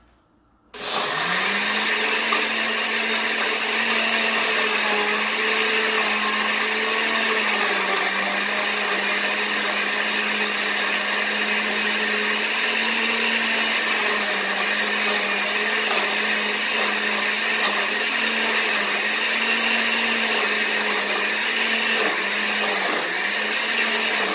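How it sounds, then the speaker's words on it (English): A blender kicks on abruptly and runs at full speed blending spices, a loud, steady whirring motor drone with a slight wavering pitch that holds throughout. "So all my spices have been mixed in the blender. Now I'm going to blend them."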